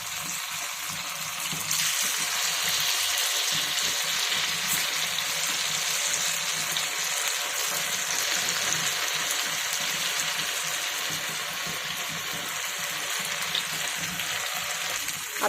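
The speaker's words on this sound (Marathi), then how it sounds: "हे पहा, असं स्लरीमध्ये एक एक डिप करून नंतर तेलामध्ये सोडायचं आहे." Leftover idli pieces, dipped in slurry, fry in hot oil with a steady, bright sizzle and crackle that runs continuously and close by, with no talking.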